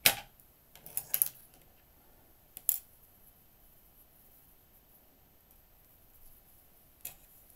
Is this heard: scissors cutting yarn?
yes